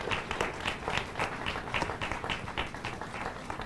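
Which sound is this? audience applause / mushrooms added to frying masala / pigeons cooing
audience applause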